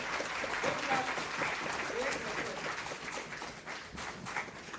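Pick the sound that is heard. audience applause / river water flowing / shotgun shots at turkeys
audience applause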